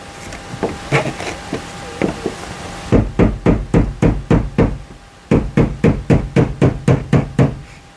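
Hammer blows tapping a stuck part loose on a car, a Hellcat swap into an RX8: a few scattered knocks, then a steady run of sharp, loud, evenly spaced metallic taps close by.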